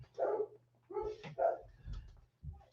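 Dogs bark in a short run of four or five moderately loud woofs and yips, each brief and separated by short gaps, heard close with no talking over them.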